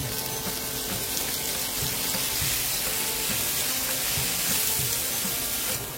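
Oil sizzling in a pan while cooking a prawn masala, a steady dense hiss and crackle at close range with no talk.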